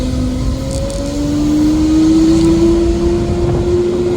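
A Lamborghini Aventador SV fitted with a Brilliant Exhaust roars close by. Its engine note climbs steadily in a continuous, moderately loud drone.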